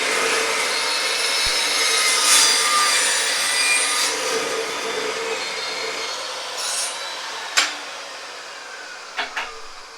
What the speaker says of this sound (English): So that's our new saw. It's made by Fine. It's a 14-inch. It's called a Slugger